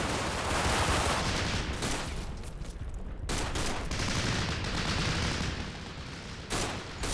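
Dense, continuous gunfire from the WWII game Combat Mission: Battle for Normandy, with overlapping rifle and machine-gun bursts rattling loudly and steadily for several seconds and a brief lull near the middle.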